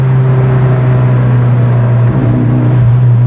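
A turbocharged car engine runs loudly with a chambered muffler exhaust, producing a strong, steady low drone with a slight lift in pitch near the end, close and with no talking.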